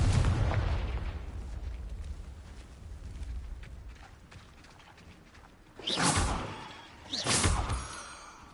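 Confringo spell blasts go off in the Hogwarts Legacy video game: a rumbling opening gives way to two sharp, bright whooshing explosions close together near the end.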